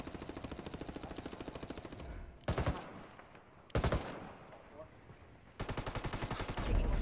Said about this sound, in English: Taking a lot of fire